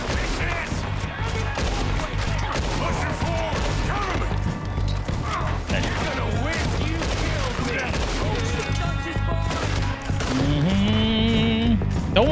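Gunfire in the video game Red Dead Redemption 2, a dense run of shots and impacts layered over a loud, continuous game soundtrack and effects, with a voice talking over parts of it.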